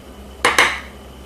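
A metal spoon scrapes seeds out of a halved jalapeno pepper in two quick, close scratchy strokes, with nothing else heard.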